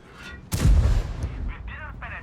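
A tank's main gun fires in an armored combat video game, a sudden loud booming blast followed by a rumbling decay, with further short mechanical hits trailing after.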